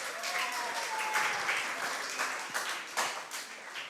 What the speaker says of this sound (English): You all need a big round of applause